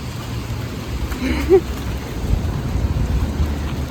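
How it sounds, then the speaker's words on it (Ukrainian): Warm rain falls steadily outdoors as a dense, even hiss with low rumbling underneath, continuous and fairly loud throughout with a brief faint vocal sound in the middle. "Дивіться, який гарненький дощик теплий."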